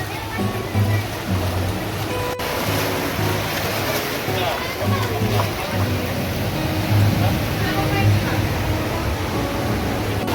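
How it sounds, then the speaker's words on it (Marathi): Loud, steady roar of surging sea water at high tide, with big waves rushing and breaking continuously against coastal rocks at Harihareshwar, Maharashtra; a person talks over it. "किती मोठ्या लासा उचललेल्या आहेत बघा भरती उडी जोरात येते"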